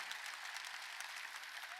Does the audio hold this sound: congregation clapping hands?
yes